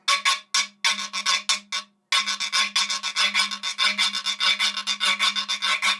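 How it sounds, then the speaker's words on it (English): A heko-heko scraper is played in quick rasping strokes, close and loud, with a short pause before a steady run of even, rhythmic scrapes. "This is a heko-heko, and heko-heko, I mean, it can be played different ways."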